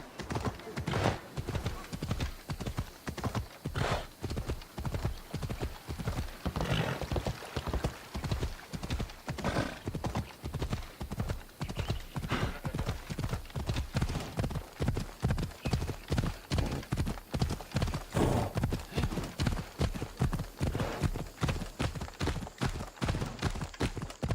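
Horse hooves clip-clopping at a steady walking rhythm in Assassin's Creed Odyssey, close and clear with dozens of even beats throughout, an occasional whinny and faint talk now and then.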